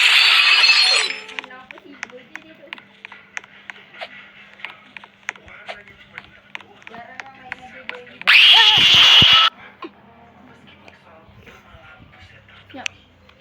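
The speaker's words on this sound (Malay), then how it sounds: "aku main dengan kaca pecah pula" Glass shatters twice inside the Roblox game Escape Miss Ani-Tron: a loud crashing burst at the start and another about eight seconds later, with a player talking in between.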